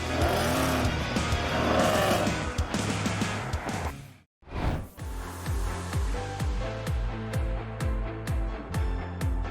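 A car drives hard, with an engine pushing through a dense roar and possible tire squeal. The sound drops briefly to near silence, then returns with rhythmic, repeated engine pulses, loud and close.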